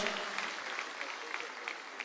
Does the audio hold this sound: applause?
yes